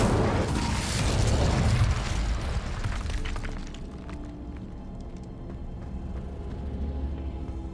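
Incendio fire spell in Hogwarts Legacy bursting with a loud roaring whoosh and rumble, then fading into crackling debris and quieter ambient rumble.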